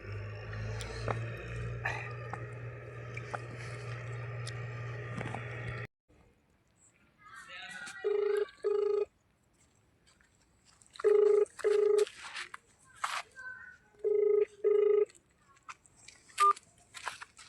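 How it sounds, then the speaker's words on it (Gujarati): A telephone is dialed with a run of tones over a low hum, then after a pause a repeated ringing pattern sounds in regular pulses, with some faint voices between. "હવે હું ફોન કરું"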